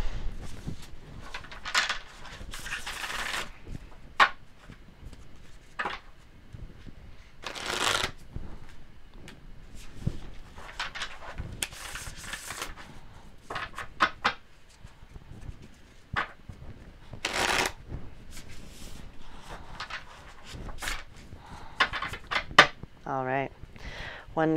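A new tarot deck being shuffled by hand, with close riffling and soft card slaps recurring in bursts over a quiet background, while a person speaks intermittently.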